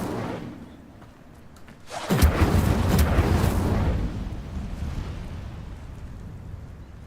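An Incendio fire spell is cast in Hogwarts Legacy, with one sudden deep whooshing burst that swells loudly and then slowly fades into a lingering roar.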